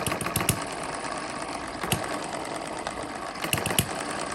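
A small model hit-and-miss engine runs steadily on a mini homemade dyno, a fast, even mechanical chatter with a few sharper knocks, fairly quiet and close with no talk.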